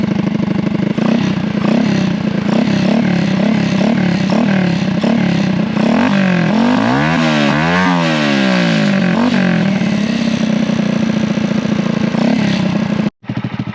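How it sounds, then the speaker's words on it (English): A Honda Grom motorcycle with a cheap aftermarket exhaust idles with a loud, choppy exhaust burble, then revs lightly and climbs into louder, sweeping revs before settling back, close by. "so this is the bike at idle. He's gonna do again light revs and then louder revs."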